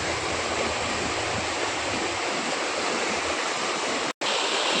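Savatsada waterfall near Chiplun, a steady, loud rush of falling water heard close and continuous, with one sudden brief cut near the end.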